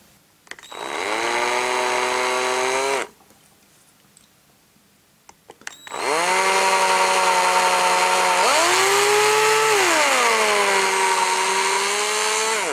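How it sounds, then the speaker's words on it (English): Small power drill drilling out plastic pegs on a Transformers Deluxe Barricade toy, two close, loud high whining runs separated by a pause, the second dipping in pitch as the bit bites. "So here you can see I've drilled out very carefully the two sort of pegs."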